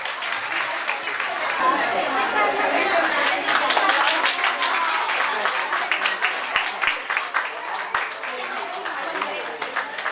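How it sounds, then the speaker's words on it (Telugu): An audience claps at a tambola game event in Visakhapatnam, a sustained burst of many hands applauding at close range, mixed with crowd murmur and voices. "క్లాప్స్ అండి ప్లీజ్, క్లాప్స్"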